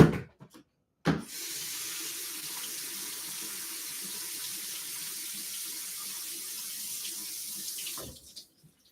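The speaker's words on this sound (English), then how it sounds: "Oh, you should wash the leaves." Basil leaves for pesto rinsed under a running kitchen tap, a steady close hiss of flowing water lasting several seconds and then stopping abruptly.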